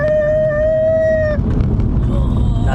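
A BMW wagon on new Cooper tires brakes hard, a sustained tonal tire squeal over rumbling road and wind noise, ending abruptly after about a second and a half.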